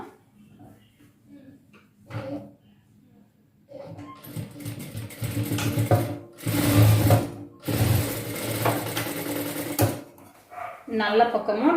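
A sewing machine stitches a double stitch on a chudidhar top, running in several loud bursts of rapid mechanical whirring separated by pauses, with a person talking quietly between and under the runs.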